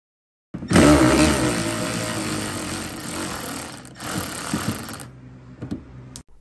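An electric ratchet removes 10mm bolts during a fog light installation on a 2010 Scion xB, with a loud, continuous buzzing whir of a few seconds followed by a few short, quieter bursts.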